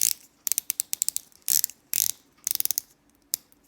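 Rotating the 120-click bezel on a Hamilton Khaki watch with a silver polished aluminum insert produces close, crisp bursts of rapid ratcheting clicks separated by short pauses, with a few single clicks in between.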